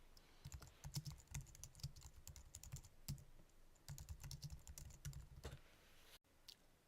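Fast typing on a computer keyboard, entering a listing name and notes, with dense clicking keystrokes in two long bursts separated by a short pause, close and steady, with no talking.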